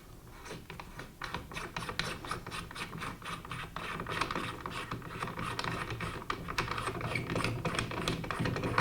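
A muzzle brake is unscrewed from a Kalashnikov-USA KR103 rifle, a close ratcheting, clicking metal rattle that runs steadily and grows slightly louder, with no talk.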